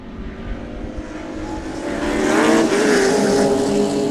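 Race cars at Sebring working through traffic roar past in a loud, sustained engine wash that builds and swells toward the end as cars go by.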